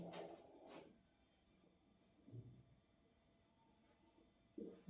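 A pen scratches on paper while a math problem is worked out, quiet, close strokes in short bursts separated by pauses, faint against a hushed room.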